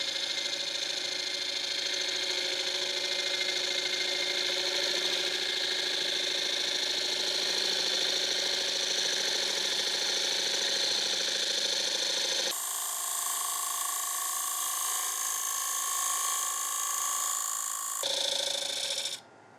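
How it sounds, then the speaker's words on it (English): A wood lathe spins a heavy-duty wooden chopping board while a tool cuts back the end grain, producing a continuous, loud whine with steady tonal hum that shifts briefly near the end. "We're just going to cut back those end grain fibres."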